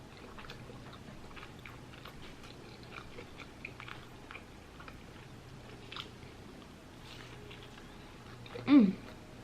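Someone bites into a chicken sandwich with sauce and chews, giving soft, close mouth noises with a brief louder crunch near the end, over a low background hum.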